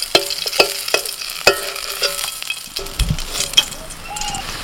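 Pointed gourd (potol) fries in a pan as a utensil stirs it, giving several sharp scraping clinks against the pan at first, then a softer, continuous sizzle close by.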